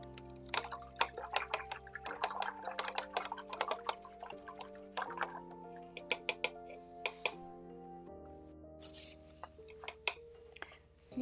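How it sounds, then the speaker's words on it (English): A paintbrush is swished and tapped in a water container during an acrylic landscape painting session, with soft dripping and clinking strokes repeating steadily and close by, fairly quiet, with no talking. "I'm going to wash my brush."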